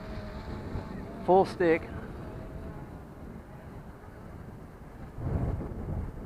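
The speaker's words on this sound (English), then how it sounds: "the wind is pretty breezy" Breezy outdoor wind buffets the microphone during a 3DR Solo drone return-to-home test flight, a steady low rumble throughout with a louder gust near the end; someone speaks briefly early on.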